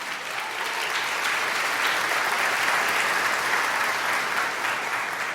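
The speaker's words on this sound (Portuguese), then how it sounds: "nós queremos com alegria receber com palmas o pastor Jean" A church congregation gathered for a baptism service claps steadily to welcome the pastor, a dense, even wash of applause filling the room throughout, with no talking over it.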